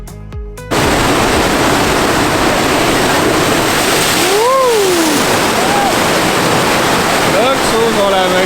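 Ocean surf at Botany Bay on Vancouver Island roars as a loud, constant broadband rush, close and powerful, with voices speaking faintly over it.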